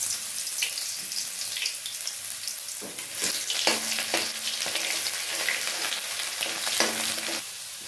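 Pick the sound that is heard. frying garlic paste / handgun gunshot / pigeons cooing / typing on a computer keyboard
frying garlic paste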